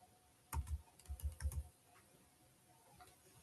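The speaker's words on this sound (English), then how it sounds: "So I'm going to type in San Antonio." Quick bursts of typing on a computer keyboard, close and fairly quiet, in two clustered runs of keystrokes followed by a few scattered faint clicks in a hushed room.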